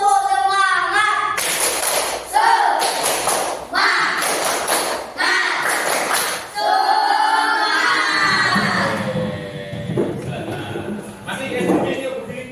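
Children in an Indonesian classroom clap in a group chant, sharp rhythmic bursts of palms in several quick rounds, with shouting voices and a teacher's voice leading between claps.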